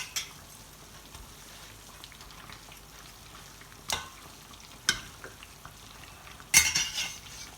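Potatoes topped with mozzarella cook in a pan with a soft, steady sizzle, broken by a few sharp clinks and scrapes of a utensil against the pan, no talking.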